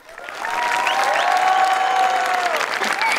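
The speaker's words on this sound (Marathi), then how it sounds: "टाळ्यांचा आवाज ऐकलात का सर?" A studio audience at a Marathi comedy show bursts into loud, sustained clapping and cheering that swells within half a second and holds steady until the end.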